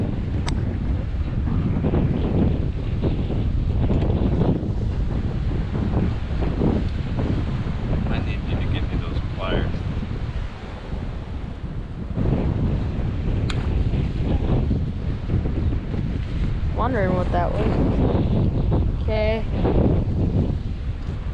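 Wind gusting across open water at a fishing pier in Port Aransas, a constant rough buffeting roar on the microphone, with people talking intermittently over it.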